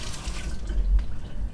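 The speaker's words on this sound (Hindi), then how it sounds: "पहले हम इसको धो लें, ज़रा पानी मार लें," Fresh turmeric rinsed under a running tap, a close, steady splash and trickle of water with faint drips and no talking.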